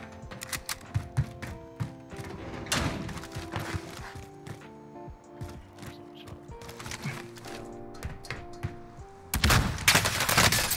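Bursts of gunfire ring out in the Warzone video game, a fast rattling fusillade that comes in clusters, with a louder, denser volley near the end.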